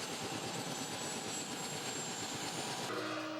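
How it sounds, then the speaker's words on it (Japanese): A helicopter arrives at a Himalayan village in Dolpo, Chharka, its engine and rotor making a loud, steady, continuous drone. "ヘリは村に到着。"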